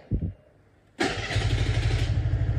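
A Honda Beat motor scooter's electric starter whirs briefly, then the small engine catches and settles into a steady, close idle hum that continues to the end.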